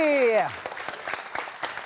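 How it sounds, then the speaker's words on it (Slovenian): Brief applause for two primary school teams at a cup-stacking competition. A voice speaks first, then scattered, fairly faint claps follow for just over a second. "Še nekaj in velik aplavz obe ekipi!"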